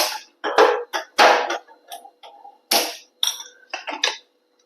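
A gas stove is lit in a home kitchen while cooking potatoes for a poori masala curry: a run of sharp, dry clicks and ticks in an irregular rhythm, close by, with light metallic clinks between them.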